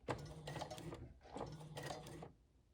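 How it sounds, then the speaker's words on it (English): A sewing machine stitches a fabric boxy bag, backstitching in two short whirring runs with a brief pause between, close and alone before falling quiet. "Make sure to backstitch when you are all finished up to secure your work."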